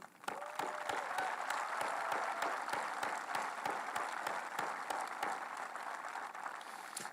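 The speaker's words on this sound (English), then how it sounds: "Offer them one last round of applause." A graduation audience applauds speakers, a steady wash of many hands clapping that holds evenly for about seven seconds, with no voices over it.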